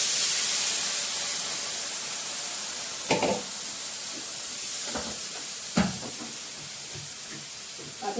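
Hot water goes into a hot pan while cooking a fish curry, raising a loud, steady hiss of steam and sizzle that continues throughout, broken by a few sharp clatters of a utensil.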